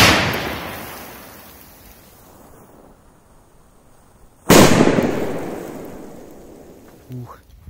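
Blue P2000 firecracker bursting in sand outdoors: a single sharp, loud blast that decays into a long rumbling tail, followed by a brief faint voice near the end.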